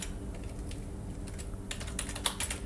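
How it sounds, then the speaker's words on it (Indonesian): Typing on a computer keyboard while code is entered into a Google Sheets script: soft distant key taps, then a closer flurry of crisp clicks toward the end, with no speech. "di sini kita ketik function lagi"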